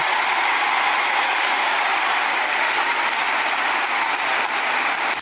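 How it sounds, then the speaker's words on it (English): Cheering crowd sound effect: a dense, loud, steady roar of applause and cheers that holds for several seconds and cuts off abruptly at the end. "And the crowd goes wild."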